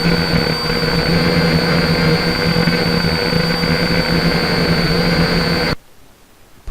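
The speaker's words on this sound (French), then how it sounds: "Pour ce qui est du bruit en vol, il est très bruyant comme vous allez l'entendre" A Syma X5C quadcopter drone flies close by with a loud, steady high-pitched buzz and whine from its propellers, then cuts out abruptly near the end.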